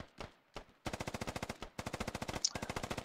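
Sustained machine gun fire in the video game Squad, a Russian faction assaulting a habitat position: rapid evenly spaced bursts of loud shots, each run lasting about a second, separated by brief pauses, close and dense.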